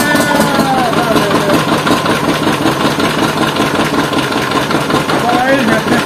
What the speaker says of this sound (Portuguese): Quer que eu bote ele pra funcionar com a forrageira também